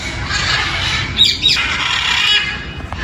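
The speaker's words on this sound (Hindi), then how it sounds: "ये अफ्रीकन ग्रे पैरट बैठे हुए हैं" African grey parrots in an aviary in Islamabad give loud, raspy squawks and a few chirps over a busy background of bird noise.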